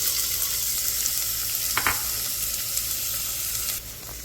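Diced onions frying in a pan as the start of a rice dish give a steady, close hiss of sizzling, with a brief clatter of stirring partway through and no talking.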